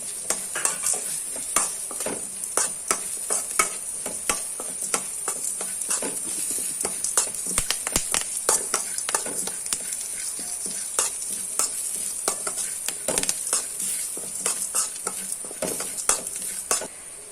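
Curry leaves tempering in hot oil in a pan for a potato and pea gassi, stirred with a spoon that clicks and scrapes in quick irregular strokes over a constant bright sizzle, close and without talk.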